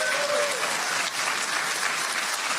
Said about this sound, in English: Standing ovation there of the crowd.